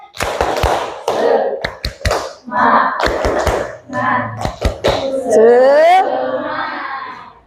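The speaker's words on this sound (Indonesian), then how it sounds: "clap your hand" Schoolchildren in an English class clap their hands in a few sharp, scattered bursts, mixed with a teacher's voice and children's singing and chatter that dominate throughout.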